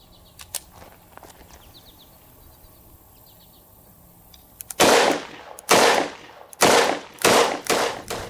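A 10mm pistol loaded with Hornady 155 grain XTP rounds over 14 grains of Accurate No. 9 fires five loud, sharp shots in quick succession outdoors, after a few seconds of quiet with faint clicks.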